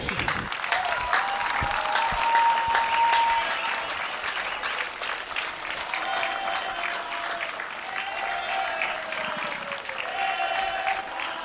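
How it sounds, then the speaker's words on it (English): Sustained audience applause honoring archery medal winners at the European 3D Championships finals in Maribor, a steady crowd clapping throughout with some whistles and cheers mixed in. "And one round of applause"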